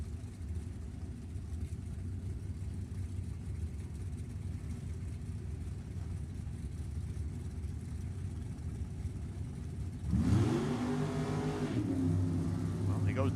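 A drag racing car launches down the track at a Pacific National Open drag race near the end, its engine roar sweeping sharply upward over steady trackside noise, with an announcer talking throughout.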